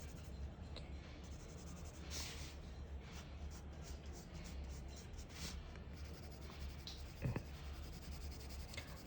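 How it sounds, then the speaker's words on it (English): A pencil shades values on paper with slow, soft, continuous scratching strokes, faint and close, with one brief sharper tap near the end. "when I'm putting these values, my pencil is not moving around very quickly"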